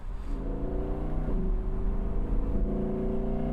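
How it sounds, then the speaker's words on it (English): A 5.2-litre V10 car engine revs hard under load with a steady, deep guttural roar that swells slightly in pitch, heard continuously and close with no talking. "If you get it under load, it makes this wonderful guttural sound."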